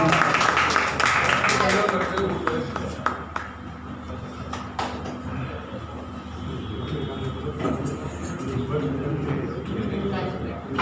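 An audience at a Hindi music tribute event applauds to welcome a speaker. The dense clapping is loudest at first, then continues as a steady wash with voices talking over it.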